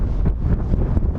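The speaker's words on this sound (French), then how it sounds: "il y a beaucoup de vent." Strong wind buffets the microphone on the high Bolivian altiplano south of La Paz, a loud continuous low rumble with gusty surges and no speech.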